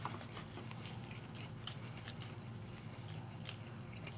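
Someone eating McDonald's chicken nuggets with sriracha mac sauce quickly, one after another, with soft, steady close-up chewing and crunchy bites throughout and no talking.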